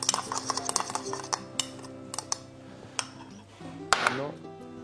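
A spoon mixes a brunoise of finely diced vegetables with fleur de sel, pepper and rapeseed oil in a bowl, giving close, quick clinks and scrapes in an uneven rhythm with faint background ringing.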